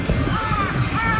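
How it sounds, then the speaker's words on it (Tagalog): Crows caw close by in Tokyo near Shinjuku, a few harsh rasping calls over a busy street hum. "Maraming uwak."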